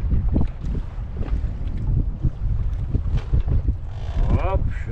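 Strong wind buffets the microphone in loud low rumbling gusts, with an inflatable boat's motion and water beneath while fishing for horse mackerel at sea, and a voice briefly heard.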